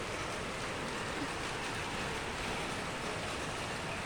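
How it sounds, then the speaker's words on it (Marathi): Heavy rain falls in a steady, dense hiss of even intensity throughout, with no talking over it. "आत्ता आपण बघतोय की आमच्या इथे खूप पाऊस पडतोय"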